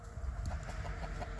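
Chickens and roosters on a homestead cluck in a short, close burst of repeated calls, some louder than others, over a steady low background rumble.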